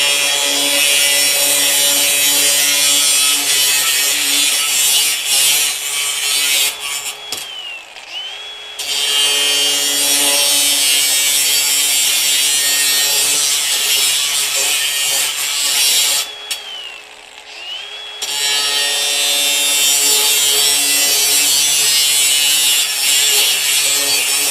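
An abrasive cutting wheel grinds through 1-inch steel conduit, a loud, steady high-pitched screech in two long cuts, each broken by a brief drop as the wheel spins down between passes.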